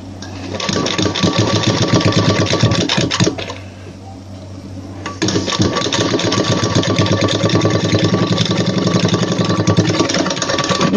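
A sewing machine stitches a blouse seam, running loud and steady with a rapid whirring drone, pausing for about two seconds before starting again at the same pace.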